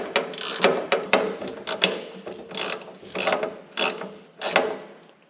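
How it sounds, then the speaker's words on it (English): Rapid ratcheting clicks of a screwdriver being turned come in quick bursts with short pauses, close and fairly loud, alone without talk. "A screwdriver."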